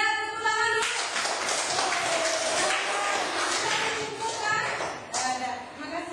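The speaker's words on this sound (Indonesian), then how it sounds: "Iya, tepuk tangan dulu." Primary schoolchildren in a classroom clap their hands together in a dense, sustained burst that fades near the end, following a teacher's voice.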